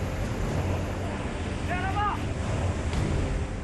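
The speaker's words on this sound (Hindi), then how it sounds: "डराता पानी का शोर" Loud, steady rushing floodwater in Raichur, Karnataka roars continuously with heavy wind-like noise, and a brief whistle-like tone rises and falls partway through.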